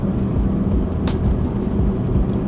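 Inside a lowered stance car on the road, a steady low engine and road rumble hums throughout with a couple of brief hissing bursts, fairly loud and close, with no talking.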